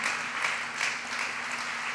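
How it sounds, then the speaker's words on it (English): Rally crowd applauding two honoured guests at a political tour stop in Sarver, Pennsylvania, a distant, even wash of many hands clapping throughout. "Give them a round of applause, will you?"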